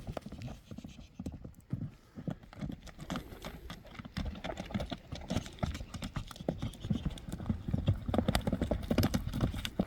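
A horse named Boeing, shown at a sale, runs with its hooves clip-clopping in a fast, steady rhythm that grows louder and denser over about ten seconds, with no talking.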